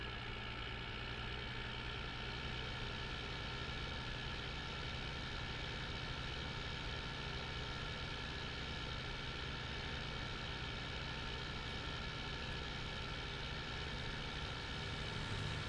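A heavy tractor engine idles steadily in a farming video game, a constant low rumble with a droning hum that holds evenly throughout, close and alone with no talk.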